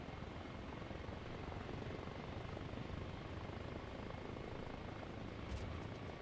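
A helicopter in the Arma Reforger video game drones with a steady, muffled rotor and engine rumble, fairly faint and constant throughout, with no voices over it.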